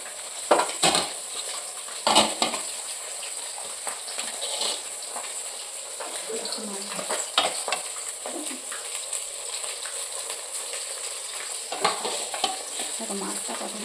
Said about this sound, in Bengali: আর দেখো মাছ ভাজছি